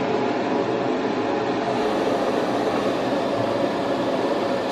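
An airbrush spray booth exhaust fan runs steadily, giving a constant, even broadband whoosh with a low rumble underneath, close and moderately loud throughout with no breaks or speech.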